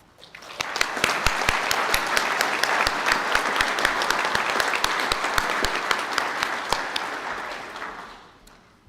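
A graduation ceremony crowd applauds culinary arts graduates in a hotel hall, sustained hearty clapping that swells quickly, holds steady for several seconds, then fades.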